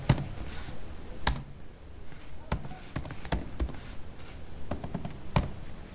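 Fingers type C code on a computer keyboard during a programming lesson, with crisp, irregular key taps coming in small bursts and scattered single strokes, close and fairly quiet, and no one talking.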